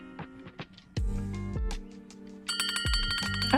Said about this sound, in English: I'm not sure I like the bell sound.